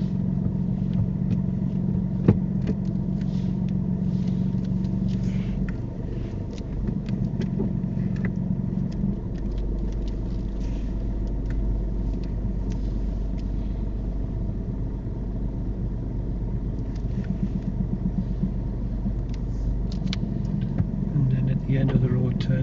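A car idles and creeps backwards and forwards during a driving test manoeuvre, a steady low engine rumble with slight shifts in pitch, heard under ongoing talk.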